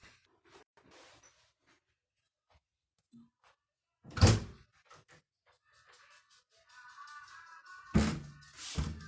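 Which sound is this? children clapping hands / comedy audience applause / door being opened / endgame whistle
door being opened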